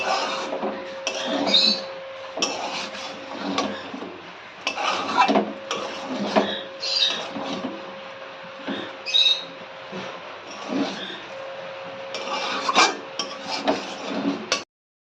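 Vegetable chow mein noodles are tossed and stirred in a pan, producing irregular metallic scrapes and clinks in uneven bursts, fairly close and clear, with a faint steady tone underneath and no talking.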